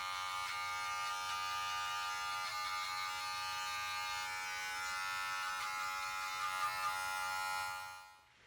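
Electric hair clippers give off a steady, close, loud buzz as they shave a head during a self-haircut. The hum stays even for about eight seconds, then cuts off sharply.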